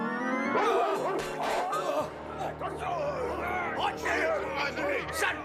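A cartoon dog in an animated French adaptation of Jack London's The Call of the Wild barks and whimpers in yips and cries, close and loud, mixed with voices talking over and around it.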